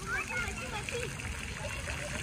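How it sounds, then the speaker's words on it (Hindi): A high-pressure fountain sprays and splashes steadily at a 14 August celebration, with a continuous rush of water and faint voices chattering in the background. "फाउंटेन का प्रेशर बहुत है और पानी ऐसे ऐसे जाए जा रहे"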